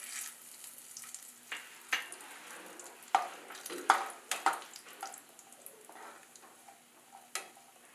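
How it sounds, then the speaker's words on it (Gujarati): Cashews fry in hot oil for a sweet mewa pak, a quiet bubbling sizzle broken by sharp stirring scrapes and clicks against the pan, with no talking. "50 ગ્રામ કાજુને તળી લઈશું।"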